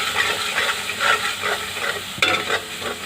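Dry spices roast in a pan for rikwach kadhi, stirred in steady sweeps that give rhythmic scraping over a soft sizzle, close up, with one sharper knock of the utensil near the end.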